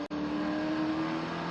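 Spec Corvette race car engine at Buttonwillow Raceway, a loud sustained high-revving drone held steadily through a corner after a brief cut at the start.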